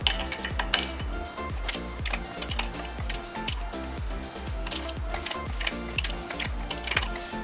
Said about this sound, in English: to snug these bolts down, yet again, I'm just using the 1/4" ratchet